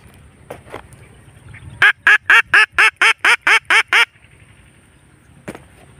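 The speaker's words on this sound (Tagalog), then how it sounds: "Wild duck mga idol. Ayan sila." Wild ducks in the Philippines give a close, loud burst of about nine rhythmic quacks, with fainter calls before and after over quiet outdoor background.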